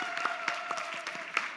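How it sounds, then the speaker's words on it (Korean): Scattered clapping from a church congregation at a Sunday service, light and uneven, with a few louder claps standing out in a quiet room. "뜨거운 박수 한번 해주시기 바랍니다"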